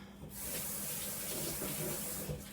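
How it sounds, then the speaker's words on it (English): Running tap water pours steadily as a butter measure is rinsed at a kitchen sink, a soft continuous splashing hiss that begins abruptly and stays even throughout. "I'm going to rinse out this butter measure"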